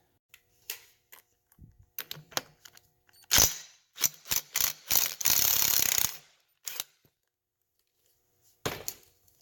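Ratchet clicking as it loosens a reverse-thread nut on a Suzuki LT250R ATV engine, with sharp bursts of pawl clicks in short groups and one longer continuous spin, close and distinct with no talking.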